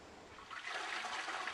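A toilet flushes with a rushing, swelling whoosh of water that builds and holds steady, heard alone and fairly close.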